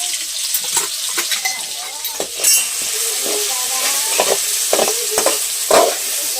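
Green chilies hiss and crackle in a generous pool of hot oil as a spoon scrapes and stirs them around the pan, the sizzle continuous with sharper pops and metallic knocks, fairly close.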